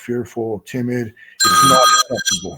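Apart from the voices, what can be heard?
phone ringing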